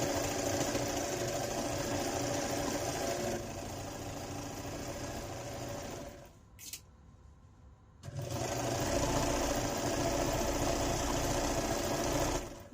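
A sewing machine stitches a pillow cover quilt block at a 1/4 inch seam, running as a steady, close mechanical whir that stops for about two seconds of near silence, then starts again and runs on.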